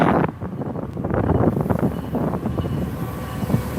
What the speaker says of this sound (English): A train engine just went by.